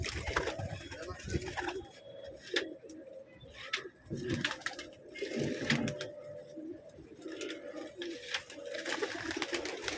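Several pigeons coo softly and repeatedly in low, throaty calls, with light rustling and faint background noise around them.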